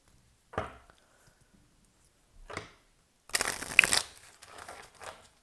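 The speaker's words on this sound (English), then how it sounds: "going to give them a riffle shuffle" A few brief card sounds, then a quick rippling riffle of playing cards followed by a softer bridge, close and otherwise quiet.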